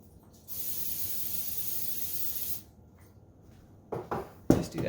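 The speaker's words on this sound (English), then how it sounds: "I'm going to spray this with oil." An oil spray can hisses in one steady burst of about two seconds over a sourdough dough ball at the kitchen sink, followed by a few soft clunks and handling knocks.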